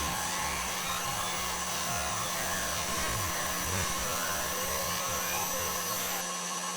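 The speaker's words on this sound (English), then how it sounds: "switch it to Rage mode. You need to be aware it's also really loud. This is actually insane, it's printing so fast." A Bambu Lab 3D printer running fast in a loud high-speed mode gives a steady, loud whirring drone of fans and motion that holds constant throughout, with no voices.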